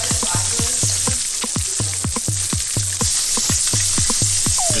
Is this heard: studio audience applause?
no